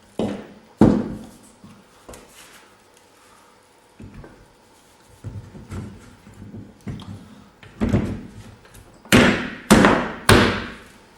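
A small wooden woodworking joint being fitted together: a run of sharp wooden taps and thuds, sparse at first and then quicker and louder toward the end, close up and with no voice.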